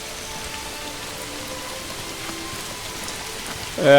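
Rain falls steadily over a medieval town with market stalls, stables and livestock in the video game Manor Lords, an even hiss of drops with faint tonal game music underneath, ending as a louder chime-like game sound cuts in.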